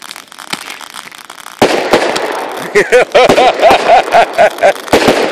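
Loud New Year's Eve backyard fireworks crackle and burst in rapid succession, with a quick string of whistling pops and bangs close by.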